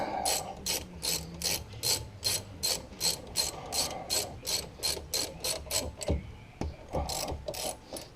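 Rapid, even ratchet clicks come from a socket ratchet tightening a 14mm bolt on a 2012 Chevrolet Equinox ball joint, in steady close bursts with brief pauses near the end.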